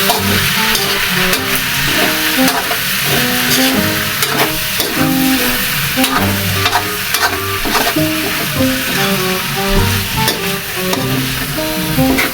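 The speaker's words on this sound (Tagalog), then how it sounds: "Haluin natin kasi baka magdikit-dikit." Beef skin and tendon kilawin sizzles in a pan while being stirred, a steady frying hiss broken by repeated scraping strokes, close and with no one speaking.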